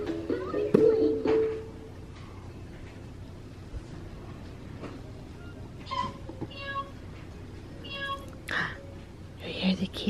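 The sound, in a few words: cat meowing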